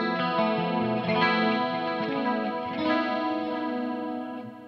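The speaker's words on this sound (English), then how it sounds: "with the clean channel. I have chorus, and I have some reverb on there" Clean electric guitar chords through a Line 6 HX Effects unit shimmer with a warbling chorus and a reverb wash, ringing steadily and fairly loud throughout with no voices.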